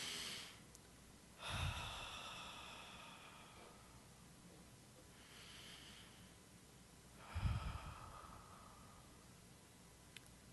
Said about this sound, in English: let's just take 2 deep breaths